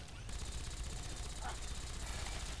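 Sustained gunfire rattles through a Fallout 3 battle for Project Purity, a dense, continuous burst of shots that holds steady and loud the whole way through.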